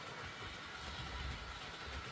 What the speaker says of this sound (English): it's running around with the train. It's still a noisy loco because of the gearing on it